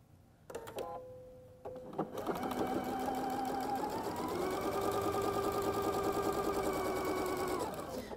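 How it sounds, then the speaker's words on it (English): A sewing machine stitches a flying geese quilt block, a few short starts and stops giving way to a long, steady whirring run that cuts off near the end, close and alone. "So let's start sewing"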